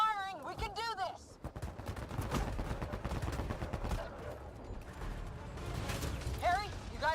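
Rapid bursts of game gunfire crackle through a busy battle scene, continuous and dense for several seconds, with raised voices and creaking, mechanical clatter mixed in.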